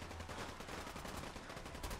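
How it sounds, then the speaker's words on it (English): Rapid bursts of gunfire in Fallout 4 crackle continuously over a dense, noisy background, shots blurring together like automatic fire. "Oh, I'm hearing gunshots."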